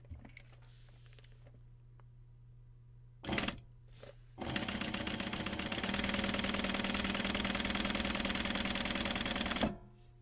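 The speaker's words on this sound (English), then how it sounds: "Now, it doesn't matter which direction you put it in the machine to sew" Sewing machine stitching a paper-pieced quilt block for a bookcase quilt, with a brief burst and then a steady, loud mechanical whirring run of about five seconds that stops abruptly, following a quiet hum.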